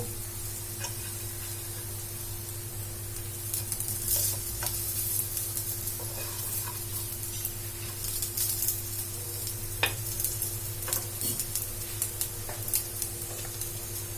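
A carrot and potato snack fries in a pan on low flame, a continuous soft sizzle with a steady low hum and scattered faint pops and stirring clicks, heard alone.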